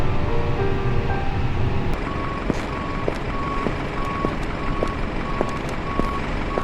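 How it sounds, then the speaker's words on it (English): An airport passenger bus pulls up at a London Gatwick stand, its reversing alarm beeping in a steady repeating pattern over a constant low engine and apron rumble. "Passengers bus is coming."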